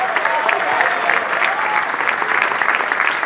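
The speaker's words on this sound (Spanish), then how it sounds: "un aplauso para este genio" A crowd claps steadily and loudly throughout, a dense, continuous applause with no pauses.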